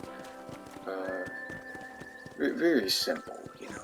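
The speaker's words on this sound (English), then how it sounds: "Riding on the horses is by far like one of the best things you can do in this game." Horse hooves clip-clop steadily during a ride in Red Dead Redemption, with a brief neigh partway through and someone talking over the game sounds.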